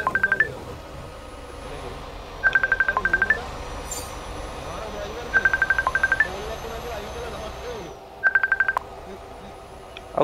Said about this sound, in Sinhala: ඔය යාළුවේ කෝල් එකක්